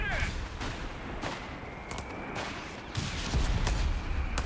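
Several grenade blasts and gunfire crackle in a Company of Heroes 3 battle as infantry breach a position, with repeated sharp bursts over a dense combat rumble.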